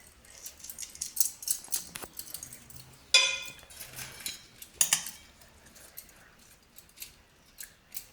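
Green chillies for a home-cooked Indian curry are snipped with scissors in a quick series of crisp, metallic clicks and snips, close up and with no talking.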